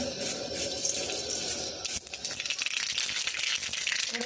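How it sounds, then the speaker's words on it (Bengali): Nigella seeds splutter and crackle in hot oil in a pan for a Bengali stir-fry of boiled elephant-foot yam stalks. The sizzle is close and steady, with dense popping that grows busier in the second half. "কালি জিরেটা দেখুন ভালো করে ফেটে গেছে"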